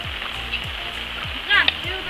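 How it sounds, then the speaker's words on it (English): Rainwater runs and trickles past freshly dug trenches, a steady close wash of flowing water with a few faint knocks and a brief voice-like chirp near the end. "the water from the rain is coming down"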